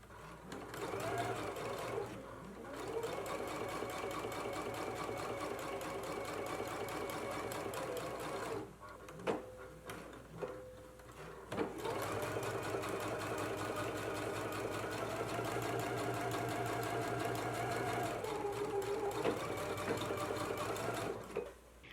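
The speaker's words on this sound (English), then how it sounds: "Let's go ahead and stitch along our seam line and then do another stitch 1/4 of an inch away" Sewing machine stitching a double seam, a line along the 5/8 inch seam line and a second 1/4 inch inside the seam allowance; steady close whirring runs in two long bursts separated by a short pause.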